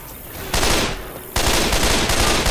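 Automatic weapon fire in Left 4 Dead, loud and dense. Two sustained bursts rattle out back to back, separated by a brief dip, with no clear speech over them.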